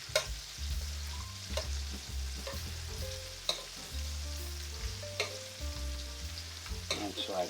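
Spicy shrimp sizzle and fry steadily in a pan as they are flipped and stirred, with clacking utensil taps and thumps over the constant crackle; no voices.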